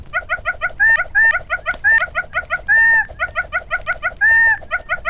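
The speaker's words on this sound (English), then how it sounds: "When I keep jumping in this one spot, it sounds like this monkey's in pain." A monkey character in a Roblox game cries out repeatedly as it jumps, giving short, rhythmic, bird-like squawking yelps at regular intervals, with a few longer held calls mixed in.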